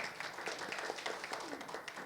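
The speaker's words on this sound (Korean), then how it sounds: "박수 한번 쳐주시기 바랍니다." An audience at a hydrogen safety forum applauds with steady, fairly faint clapping filling the short stretch.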